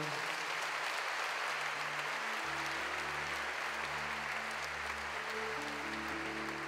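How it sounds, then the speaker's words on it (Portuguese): Congregation at Mass clapping together, a steady wash of applause filling the church, distant and even throughout, with sustained organ-like tones sounding underneath. "Aplaudamos o Santo Evangelho"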